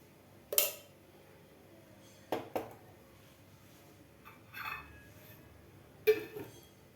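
A metal pan and spoon clink a few times while a spoonful of ghee goes in to start mango barfi, with sharp isolated clatters and quiet gaps between them.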